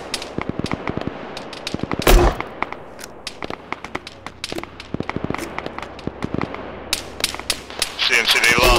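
Scattered gunshots crackle through an Arma 3 battle, near and distant rifle reports arriving irregularly with a louder burst around the two-second mark and heavier fire building toward the end, while people talk on radio under the shooting.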